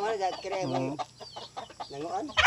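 Chickens, including Rhode Island chicks, cluck and chirp close by while a person talks over them, with a sharper bird call near the end.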